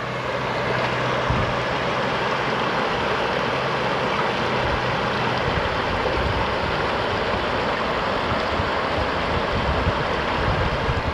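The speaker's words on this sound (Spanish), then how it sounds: "se ve bien bonito como corre el agua entre las piedras" Stream water running between stones in Miraflores, Baja California Sur, a steady broadband rush heard close and continuous with no talk.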